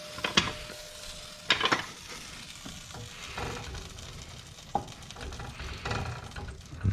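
Pumpkin stirred into a pot of thickening polenta soup, with a few sharp scraping clatters of a spoon against the pot over a steady low sizzle.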